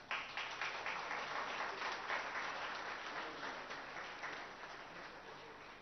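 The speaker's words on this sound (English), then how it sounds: "Let's welcome the Honorable Minister with a big round of applause." Steady audience applause fills a ceremony hall at the opening of a Microchip Technology facility in Kokapet, welcoming a government minister; dense continuous clapping stays loud throughout and eases slightly toward the end.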